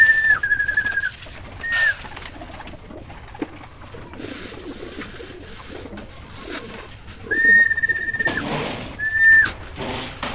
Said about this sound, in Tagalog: So magpapatuka muna tayo sa ating mga alagang kalapati